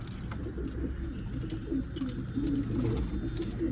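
Chinese pigeons kept in a loft with newly hatched chicks, cooing in a steady low rolling rhythm, several soft calls overlapping close by with no talk.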